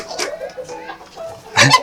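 A medium-sized village chicken with yellow colouring and a large comb, an old rooster, gives short clucking calls close by, ending in a louder burst, with faint voices around it.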